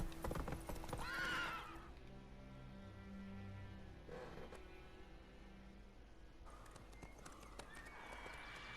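A horse in The Witcher 3 whinnies loudly, followed by steady clip-clopping hooves and snorts, with a second neigh near the end over a faint backdrop.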